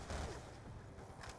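Gunfire from Treyarch's Call of Duty played on Wii U, a quiet, brief burst of shots with a low boom at the start, fading into a muffled rumble.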